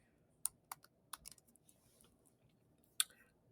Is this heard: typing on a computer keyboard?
yes